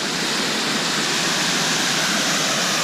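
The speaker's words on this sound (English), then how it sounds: "Toughest trail we've ever seen, but it's a beautiful waterfall." Waterfall at the Subway in Zion National Park, a loud, steady broadband rush of falling water with no pauses and no voices.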